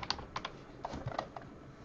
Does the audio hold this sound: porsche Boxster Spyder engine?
no